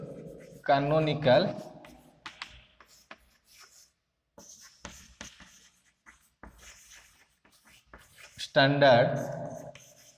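Marker or chalk scratching across a board during a digital electronics lecture, brief scrawling strokes between and beneath a lecturer's speech.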